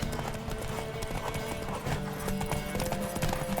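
Horse hooves clip-clop in a steady trotting rhythm in the video game The Witcher 3: Wild Hunt, fairly close, over a dense bed of background music and ambient noise.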